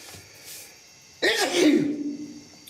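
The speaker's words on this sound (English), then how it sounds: "I'm fixing to sneeze." A single loud sneeze bursts out near the mic in a garage workshop during block sanding of primer on a 1966 Ford F100 dash and firewall, after a faint quiet lead-in.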